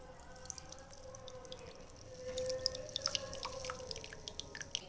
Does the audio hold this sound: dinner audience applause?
no